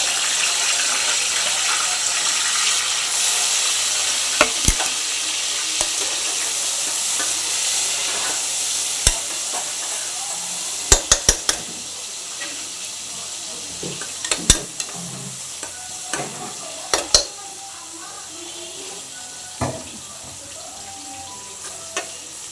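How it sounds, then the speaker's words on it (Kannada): Chopped onions fry in hot oil in a pan for chicken biryani, a steady loud sizzle with sharp scraping clicks as a spoon stirs them now and then, no talking over it. "ಈಗ ಉಳ್ಳಾಗಡ್ಡಿ ಹಾಕ್ಕೊಳತ್ತೇನೆ ರೀ."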